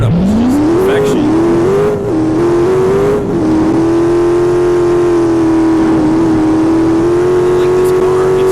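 Car engine in a Roblox driving game, Grand Horizons, starting up and revving, the pitch climbing and settling into a steady loud drone with slight dips, close and continuous with no talk over it.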